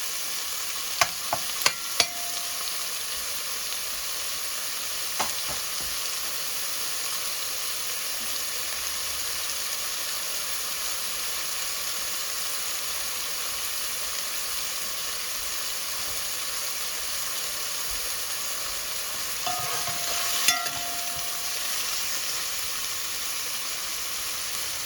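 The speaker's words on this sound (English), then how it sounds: "I give this a few minutes and I add the spinach in." Frozen spinach frying and being stirred in a pan, giving a steady, even sizzle and hiss throughout with a few sharp clicks of utensils near the start and around the middle.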